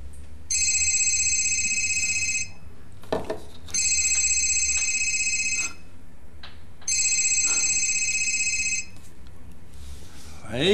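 A telephone rings indoors in three separate bursts of about two seconds each, with short quiet gaps between them. The tone is bright, electronic and steady, close and clear against a faint background.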